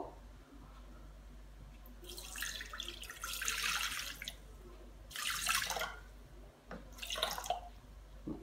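Water is poured into a Thermomix bowl in a few short splashing bursts, a hissing, bubbling trickle heard up close over a quiet kitchen hum, with pauses between pours.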